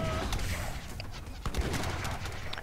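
Musket volleys crack in an Age of Empires III treaty match, scattered overlapping shots popping across a busy battlefield mix, fairly loud and continuous over a short stretch.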